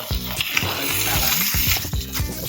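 Steak searing to medium well in a home kitchen pan, a steady dense sizzle and crackle close up, with soft stirring or scraping bumps recurring through it and no talking.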